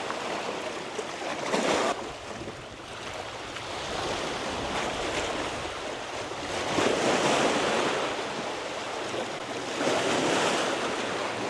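Heavy surf surges and crashes on rocks in repeated broadband bursts over a constant roar of water and wind noise, loud and close, with no voices.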